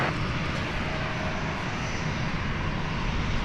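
Airliner taking off from runway 36 at DFW airport, a steady, loud roar of engines with broad rushing noise, continuous and close, without talk.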